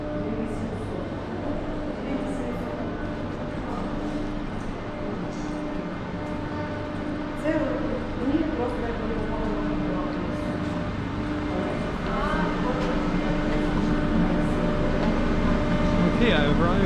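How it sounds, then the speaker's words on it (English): Main concourse of Lviv railway station, a busy indoor hall with a steady rumbling hum of trains and ventilation, low crowd murmur and scattered distant voices, plus faint tonal squeals and announcements drifting through the reverberant space. "Main floor of Lviv station."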